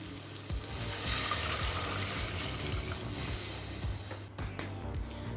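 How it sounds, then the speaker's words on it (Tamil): Water pours steadily into paneer biryani with 1.5 cups of rice in a pressure cooker, a continuous close splashing trickle lasting the whole stretch, with a few clinks near the end. "இப்போ அடுத்தது தண்ணி சேர்த்துக்கலாம்."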